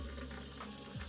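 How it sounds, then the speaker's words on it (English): Water runs steadily from the tap into a stainless steel sink in a camper van. The water pump is running. The flow is soft and constant, with no talking. "turn the water pump on"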